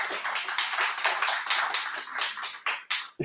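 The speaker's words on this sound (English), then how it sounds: "let's give that a clap" Audience clapping after a company announces its 1,000th shipped order, a dense burst of many hands that thins into a few final claps and stops.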